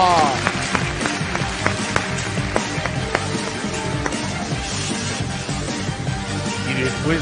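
Applause from a children's show audience greets a magician's act, with sharp individual claps rising above a busy background, music or sound effects and some voices.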